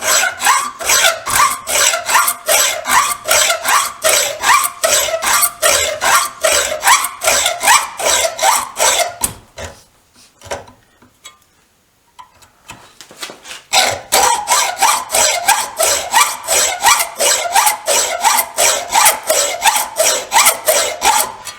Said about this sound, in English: I'm going to hacksaw through there, through here, through there, and I'll turn it round.